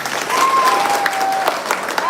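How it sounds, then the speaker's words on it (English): A crowd at a college freshers' meet in Guwahati gives a round of applause, a brief, dense patter of many hands with a thin whistle-like tone sounding through the middle. "let's all give another round of applause for Brother Leverkusen Edison"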